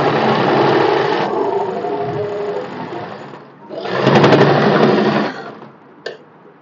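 Sewing machine stitching the elastic casing on co-ord set pants, a loud steady whirring run that pauses briefly, then another burst of stitching and a small click.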